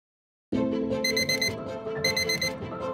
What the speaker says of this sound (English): Your alarm sounds